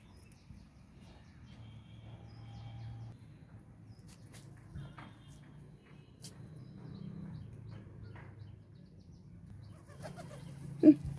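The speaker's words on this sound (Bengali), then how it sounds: "এগুলো সব আমার পায়রা।" Pigeons on a hot rooftop give soft, low cooing and brief wing flutters, faint and scattered against quiet background rustle, with a sharper flap near the end.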